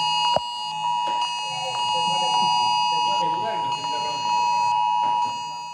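Italian national public alarm system test alert ringing on a mobile phone, a steady loud electronic tone with overtones that sounds continuously while a voice speaks over it.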